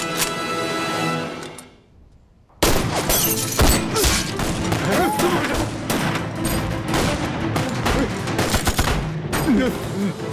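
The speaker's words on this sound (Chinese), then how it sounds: "小丁，在，先把那个探照灯给我打了。" After a short lull, a Chinese war action film erupts into a dense fusillade of rifle and machine-gun fire, with rapid overlapping loud shots and thuds in irregular bursts.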